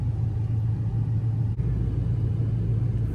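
Engine of a 1996 Chevrolet Impala with an LS swap rumbling steadily at idle in cold weather, a constant deep low drone with a brief dip midway and no speech.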